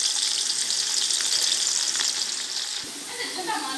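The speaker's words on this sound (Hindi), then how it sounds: "ऑयल अल्हम्दुलिल्लाह गर्म हो चुका है तो हम इसमें प्याज शामिल करेंगे" Onions sizzle steadily in hot oil in a pan for black pepper beef rice, a loud continuous crackle that eases slightly toward the end, with no talking.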